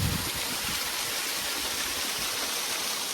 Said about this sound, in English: Waterfalls just don't stop, do they? They're just everywhere.